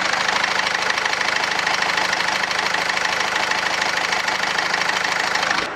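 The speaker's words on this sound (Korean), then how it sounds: "자, 이제 앞쪽으로 나가서 라이트 켜진 거랑 같이 엔진 소리도 한번 들어볼게요." A SsangYong New Korando C 2.0 diesel engine idles steadily with the hood open, a close, even rumble with a faint rhythmic diesel clatter running the whole time and no talking.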